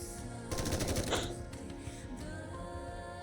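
Rapid automatic gunfire from a shootout with machines in the video game NieR: Automata, a dense burst of rattling shots peaking near the start, then tapering into scattered impacts over a steady game soundtrack.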